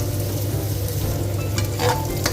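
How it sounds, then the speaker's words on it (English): Onions cooking down in a pan for palak paneer, a loud, steady close sizzle with a couple of stirring scrapes near the end and no talking. "here we'll be cooking the onions until they are brown"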